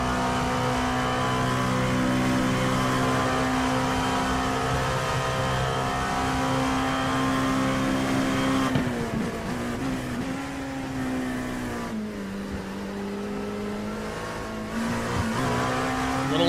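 A race car's engine at Le Mans in a sim racing game, a loud sustained drone held steady, then dipping and climbing again through gear changes while rounding the circuit.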